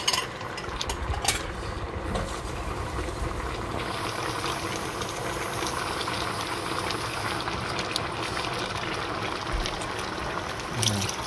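Continuous splashing and gurgling as water pours into a pot of five-spice beef short ribs, steady and close for the whole stretch, with a few small knocks.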